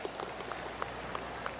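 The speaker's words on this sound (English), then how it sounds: "Oh, golf clap." Polite golf clap from spectators at a golf tournament green: sparse, scattered hand claps, soft and distant, with a few sharper individual claps standing out over a quiet crowd murmur.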